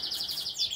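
A young lipochrome-type canary chick chirps in a quick run of high, thin tweets that repeat almost without a break over less than a second, close and clear with no voices.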